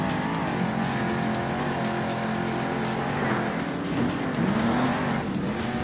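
Monster trucks race in the video game Monster Jam Steel Titans, with continuous loud engine roar, revving pitch shifts and occasional tire squeals, close and dense throughout.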